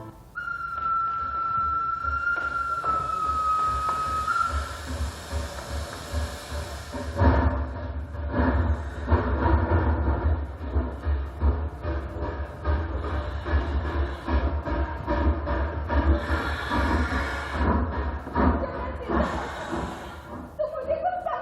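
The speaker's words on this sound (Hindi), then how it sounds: "जब मैं स्टेशन पहुंची" At a railway station, a train sounds a high whistle-like tone for a few seconds, followed by a continuous deep rumble of rolling carriages that fills the rest of the scene, loud and near, with a voice heard over it.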